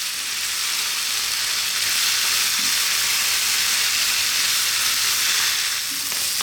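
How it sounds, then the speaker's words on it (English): Rice fries on high heat in a pan for Caribbean pumpkin rice, a steady loud sizzle and crackle that holds evenly throughout, with a few faint stirring scrapes and no talk. "You can hear that rice actually frying just a little bit"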